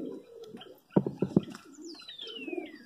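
Pigeons on a rooftop coo close by, a short burst of throaty pulses in the middle. Softer murmuring comes before and after, and a thin descending chirp sounds near the end.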